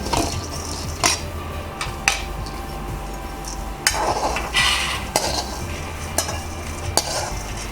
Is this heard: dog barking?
no